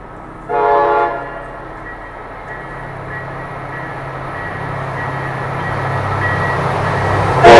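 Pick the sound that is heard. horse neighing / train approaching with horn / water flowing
train approaching with horn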